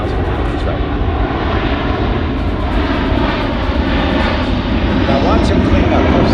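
A C-17 Globemaster III jet transport at an airshow, its engines producing a loud, steady roar through the whole stretch, with an announcer's voice talking over it.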